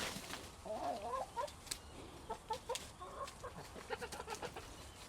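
Backyard chickens cluck softly and intermittently while being fed in a subtropical vegetable garden, their short, scattered calls sounding faint against quiet outdoor background.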